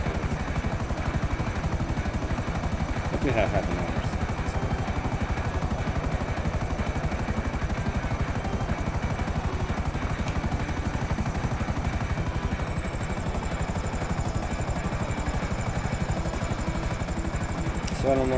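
A helicopter in GTA 5 Online whirs with a constant rapid rotor chop and an engine drone that never lets up, while someone talks briefly over it.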